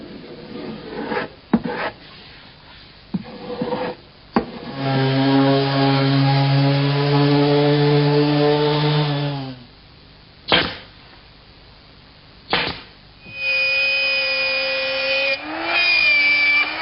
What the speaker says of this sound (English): that's one of 3 skylight openings that I have to cut in the north roof